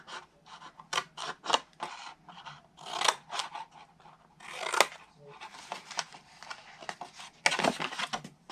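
Paper for a stamped window box card is cut and trimmed, short bursts of crisp scissor snips and rustling paper strokes coming in an irregular rhythm, close and fairly quiet.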